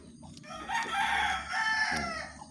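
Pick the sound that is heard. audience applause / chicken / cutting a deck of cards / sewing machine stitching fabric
chicken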